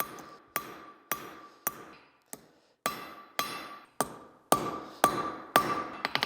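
Pure silver is hammered hot at a forge while a knife is being made: about a dozen sharp, ringing metal blows land at a fairly even pace, each one decaying quickly, close and clear.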